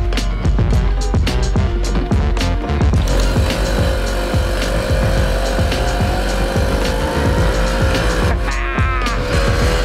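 An old vintage three-wheel moped engine runs loudly and close, a rough, busy putter full of rapid mechanical knocks and rattles, with a thin whine rising in pitch near the end.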